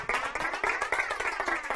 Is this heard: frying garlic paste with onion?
no